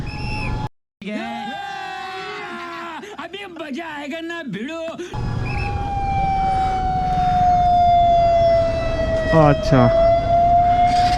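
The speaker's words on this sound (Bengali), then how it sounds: "এটা অ্যাম্বুলেন্স গেল" An ambulance siren passes through stopped traffic at a city signal. A long wailing tone rises over the street hum and grows louder toward the end, after a brief stretch of people talking near the start.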